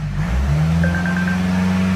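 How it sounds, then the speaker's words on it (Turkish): A Volvo XC60 engine idles, then its pitch rises and holds as the throttle is pressed, a loud, close steady drone with a faint beeping tone. "Gaz verelim."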